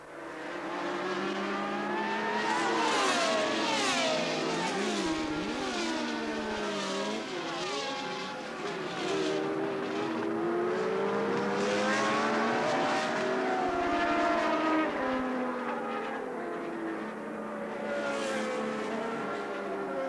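Several 1982 Formula 1 cars, a non-turbo Williams chasing Renault turbos, scream past continuously with overlapping high engine notes sweeping up and down through gear changes, loud and sustained throughout with no pause.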